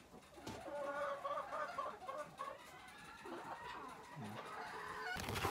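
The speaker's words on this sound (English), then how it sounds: "I just wanted to show you my rooster is beautiful. I have all my bird rock hens in here." Chickens cluck and murmur close by in a coop, a rooster among Barred Rock hens, with layered overlapping clucks and squawks forming a busy, steady flock chatter.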